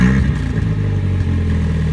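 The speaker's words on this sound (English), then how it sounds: "we took the exhaust off my 1996 Chevy Cavalier. And this is what it sounded like." A 1996 Chevy Cavalier engine running with the exhaust removed, a loud, raw, rumbling idle with rattly clatter, close and continuous throughout.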